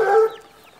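Chicken clucking near a pen of chicks, a single short close cluck at the start that quickly fades, followed by faint background.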